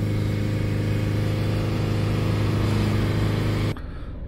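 Mitsubishi L200 diesel engine held steady at 3000 RPM, a loud, constant droning hum with no variation, cutting off abruptly near the end to a quieter background.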